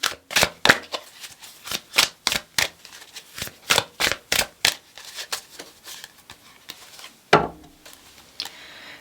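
A deck of tarot cards is shuffled at close range in quick bursts of crisp riffling snaps, loud and rhythmic, with a short pause before one final sharp snap near the end.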